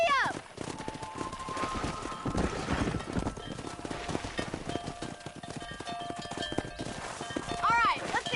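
Horse hooves clopping at a gallop in the Red Dead Redemption video game, a steady drumming under game music and spoken dialogue.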